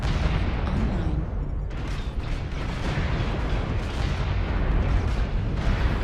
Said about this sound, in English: Target acquired. Airstrike online.